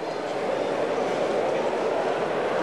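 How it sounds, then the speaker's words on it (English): An N scale model train runs around a digital DCC layout, a steady rolling rumble with faint rail clatter that holds evenly throughout, fairly close. "digital railroad running around red to blue on this T, and you'll see the train come back in a moment"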